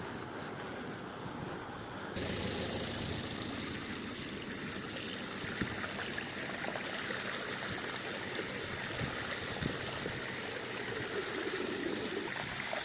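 A river flows fast under a bridge, heard from a sailing boat as a steady loud rush of water with wind buffeting the microphone throughout.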